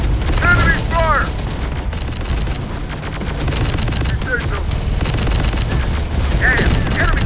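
Enemy gunfire rattles continuously in the Terminator: Dark Fate - Defiance video game, loud sustained bursts with chirpy electronic tones and game voices over the battle.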